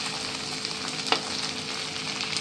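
Chopped tomato and capsicum fry with onion, ginger and garlic in a pan, making a steady close sizzle with one brief stir scrape partway through and no talking.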